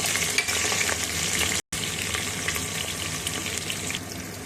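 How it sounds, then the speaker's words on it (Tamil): Onions frying in hot oil for chana biryani: a close, steady crackling sizzle with faint stirring, cut by a brief moment of silence, then the frying carries on at the same level. "இப்போ வெங்காயத்தை போட்டுக்கலாம்."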